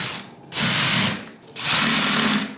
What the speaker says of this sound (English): Now you want to tighten these cam lock.